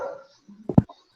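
A dog gives a short whimpering yelp, a brief cluster of two or three close sounds, during an online literary discussion meeting, with faint room noise before it and no talk over it.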